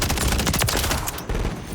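Rapid automatic gunfire from an MTZ 556 rifle in Modern Warfare III, a dense, loud burst of shots fired back to back with a brief gap near the end.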